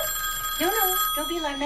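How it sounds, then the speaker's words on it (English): A telephone in the film Edward Scissorhands rings with a steady electronic tone under a woman's alarmed, reassuring voice speaking over it. "That's just a phone."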